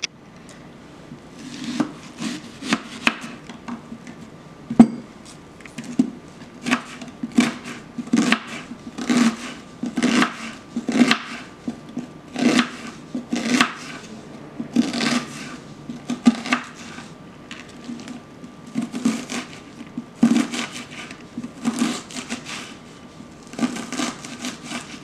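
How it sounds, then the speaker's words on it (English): A knife cuts through an onion on a cutting board in a steady run of close, crisp chops with short pauses, heard alone without talk. "we're going to start cutting this onion."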